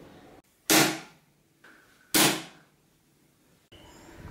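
Two sharp, loud slaps of a ruler smacked on a tabletop to imitate gunshots, each a crisp crack with a short tail, spaced about a second and a half apart.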